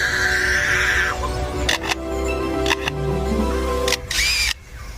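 A lyrebird mimics a camera shutter, giving a few sharp, separate mechanical clicks scattered among warbling bird calls over a steady outdoor background.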